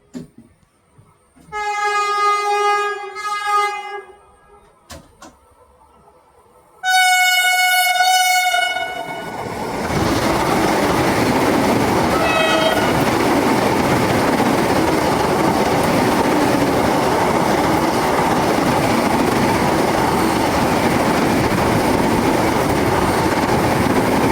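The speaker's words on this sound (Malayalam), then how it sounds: "അപ്പോഴാണ് നമ്മുടെ വന്ദേ ഭാരത് പോകുന്ന കാഴ്ചകൾ കണ്ടത്." Vande Bharat express train passing by, two loud multi-tone horn blasts in succession followed by a sustained, close rushing roar and rattle of carriages going past.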